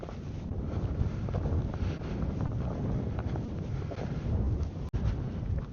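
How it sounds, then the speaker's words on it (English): Cold winter wind gusts continuously across the microphone on a Colorado hike, a loud rumbling buffet with one brief dropout near the end. "The wind is just viciously cold today."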